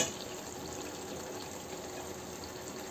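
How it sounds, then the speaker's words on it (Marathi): About half a glass of water is poured into a pan of spiced tinda (round gourd) curry, giving a steady, close splashing rush that holds evenly for about three seconds. "बघा मी अर्धा ग्लास पाणी टाकत आहे।"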